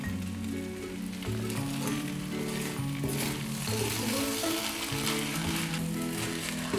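Savory vermicelli upma cooking on a low gas flame, a continuous soft sizzle with a low steady hum beneath and occasional stirring, no speech.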